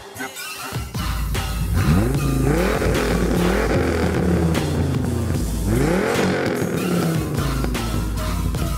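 A Mercedes SLS AMG with its naturally aspirated M156 V8 revs hard, loud and close, the pitch climbing and falling in repeated sweeps after a brief quiet start, with a deep rumble throughout.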